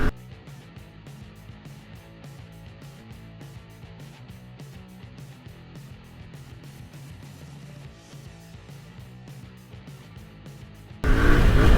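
A Yamaha Tenere 700 motorcycle rides along in second gear with a fairly quiet, steady engine hum and rhythmic pulsing, ending in a sudden loud burst of rushing noise.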